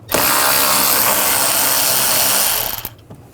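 A power ratchet with a T25 socket spins out throttle body screws on a 2009-2017 Volkswagen Tiguan 2.0L; a loud, close, continuous whirring burst of about two and a half seconds that stops abruptly with a few clicks.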